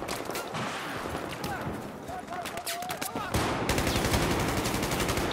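Rapid automatic gunfire in Battlefield 4 Conquest mode, with dense bursts and single shots crackling over a busy battlefield backdrop and growing louder and more continuous toward the end; someone speaks briefly over it.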